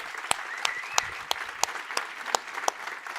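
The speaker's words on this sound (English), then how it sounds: "So I want to give them a big applause, and also Erika." Audience at a reform conference in the Nordic region claps together after a call for appreciation, steady applause with a few sharper individual claps standing out, heard from within the hall.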